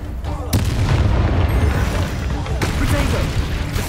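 Descendo spell impacts in Hogwarts Legacy: heavy booming hits with sharp cracks, two distinct blasts over a rumbling low-end of combat, loud and close, with voices in the clip.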